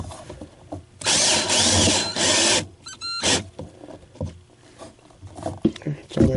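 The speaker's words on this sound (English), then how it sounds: "Now, try to get this screw in." A power drill drives a screw into a solar panel mount on an RV, two loud sustained bursts of whirring about a second each, followed by quieter handling and clatter nearby.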